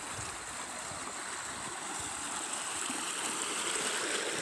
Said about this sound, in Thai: ทางก็น้ำไหลเบิด